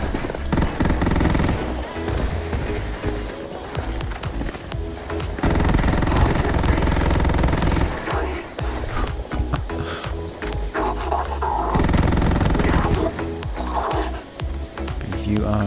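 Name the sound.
Buzzcut gun firing rapidly, Starfield video game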